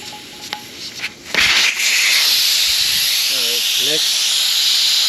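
Air hisses out of a tire valve stem on an Atlas TC 589X tire changing machine, bursting in suddenly and continuing as a loud, steady rush to the end, with a little faint activity before it.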